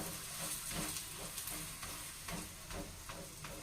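Oil drizzled around a thepla flatbread frying in a pan gives a faint, steady sizzle, with soft scraping and stirring noises rising through it now and then.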